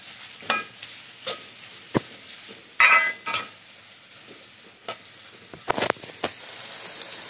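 Chicken dum biryani ingredients fry in a pan while a spoon stirs and scrapes, giving intermittent metallic clinks and scraping strokes over a soft, steady sizzle.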